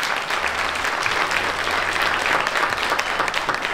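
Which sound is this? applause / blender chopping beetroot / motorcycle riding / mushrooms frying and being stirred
applause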